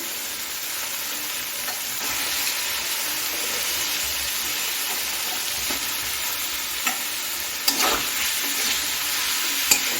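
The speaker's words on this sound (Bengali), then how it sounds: "এখন কেটে রাখা বাঁধাকপিটা দিয়ে দিচ্ছি" Chopped cabbage stir-fried in a hot pan on a high gas flame for badhakopir ghonto, a loud continuous sizzle close up with intermittent spatula scrapes and a couple of sharper knocks near the end, no one speaking.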